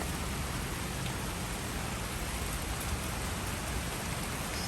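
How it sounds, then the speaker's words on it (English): Steady rain falling on surfaces, a dense continuous hiss with no breaks, moderately soft and close. "But I like the rain."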